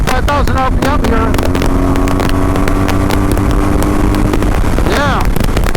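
A BMW R 1200 GS Adventure motorcycle engine revs hard and steady close to the microphone, with wind buffeting throughout and someone talking over the drone.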